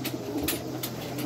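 A pigeon in an Oklahoma loft coos softly while being vaccinated, its low repeated calls heard up close over faint background noise.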